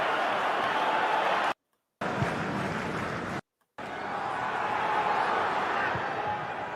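A loud, steady babble of crowd noise from football fans before a match, cut by two brief spells of silence.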